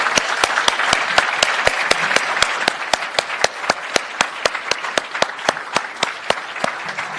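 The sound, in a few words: applause for students at ceremony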